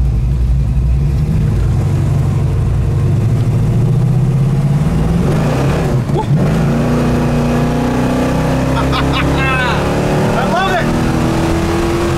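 A 1972 Dodge Charger Rally engine revs and pulls hard under acceleration, its loud rumbling exhaust rising in pitch through the gears and filling the whole stretch, with people talking over it.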